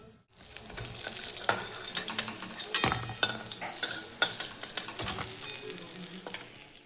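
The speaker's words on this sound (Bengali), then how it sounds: "চিকেন আমি কিন্তু ভেজে নেব।" Chicken pieces frying in hot oil for homemade KFC-style chicken, with a steady crackling sizzle, scattered pops and occasional clatter of stirring, moderately close and without talk.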